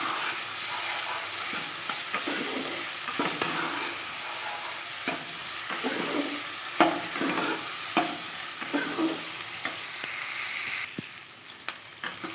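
A spoon of cumin powder stirred into frying masala in oil for an egg curry, a continuous sizzle with repeated scraping and knocking of the spoon against the pan, close and busy.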